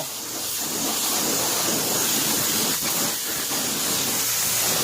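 A homemade pressure washer lance sprays an engine's oil filter housing, giving a loud, steady, close hiss of water jet that runs the whole time with only slight changes in tone.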